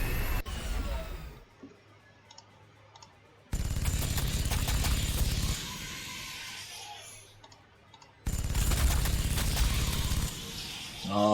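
Units in Warhammer 40,000: Sanctus Reach open fire in sustained loud bursts, broken by quieter lulls and then another heavy volley.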